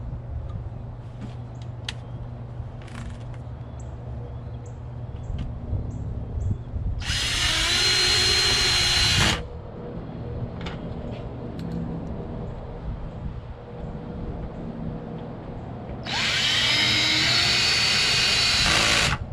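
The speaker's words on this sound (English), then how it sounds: "all I need to do is put a couple of these screws back on" A power screwdriver drives screws back into a metal band on a tube inside a Gateway all-in-one computer, two separate whirring bursts of about two seconds each, close by, with light handling sounds between.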